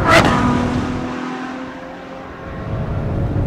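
Ferrari F12 Berlinetta V12 held at wide open throttle in fifth gear, a sustained, droning engine note heard from inside the car that starts loud, dips midway and swells again.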